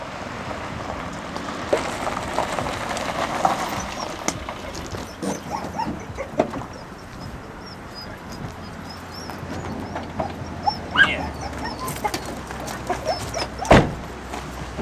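Dogs at the sea being taken for a swim, with scattered barks and whimpers over a steady wash of surf and outdoor noise, some barks sharper and nearer, others faint.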